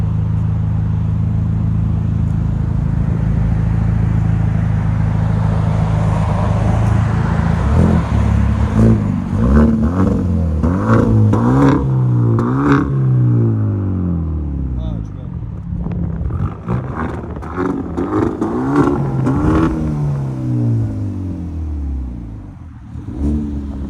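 A 2014 Hyundai Genesis Coupe with a 2.0L turbo engine and straight-pipe exhaust idles with a loud, deep drone, then is revved repeatedly in rising and falling sweeps, close by, with talking in the background.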